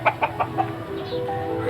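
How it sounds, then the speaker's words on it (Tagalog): Fighting roosters bred for derby clucking, four short rhythmic clucks close by followed by a softer drawn-out call with faint background noise. "tour tayo sa mga panabong na manok"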